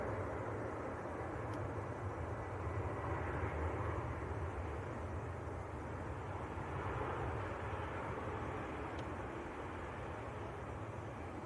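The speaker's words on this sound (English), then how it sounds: "Lufthansa, just touching down." A Lufthansa airliner touching down at Manchester Airport, heard as a steady, fairly faint broadband engine roar that holds evenly from start to finish at a distance, with no voices.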